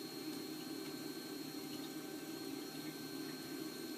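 Steady, continuous hum and rush of a Genesis 2 water pump moving water at around 192 liters per hour, an even, unbroken drone with a watery hiss, heard alone at moderate level.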